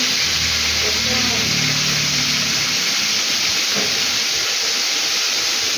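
Tomatoes go into a hot pot of tinolang manok with a steady, loud hiss and sizzle that runs the whole time, and a faint voice sits low underneath at the start.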